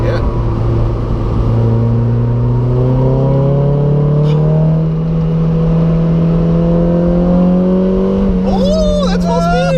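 Mazda MX-5 Miata engine held at full speed during a touge race, a loud steady drone with a slowly rising pitch throughout, with occasional rising whines near the end and voices talking over it.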